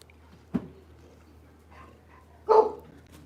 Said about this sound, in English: There's Swizz barking at the boat.